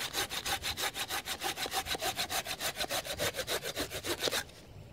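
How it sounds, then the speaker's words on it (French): A pull-stroke bushcraft folding saw cuts through wood in Picardy, with about twenty fast, rhythmic rasping strokes close up before the cutting stops abruptly near the end. "on va scier en tirant principalement, ce qui rend la découpe très facile"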